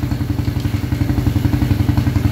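A two-wheeled motorcycle engine runs close by, a loud, steady idle of rhythmic low chugging pulses with a faint rattle throughout, while its drive chain is being cleaned; no one talks.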